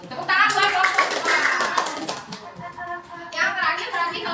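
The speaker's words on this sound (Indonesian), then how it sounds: "Tepuk tangan buat kelompok" Students clapping for a group in a classroom, a brisk burst of hand claps that eases off in the middle and then picks up again, with children's voices underneath.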